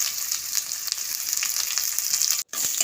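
Cumin, garlic and dried chillies fry in a pan over a low flame with a steady, bright, close sizzle and light stirring, broken by one brief silent moment near the end.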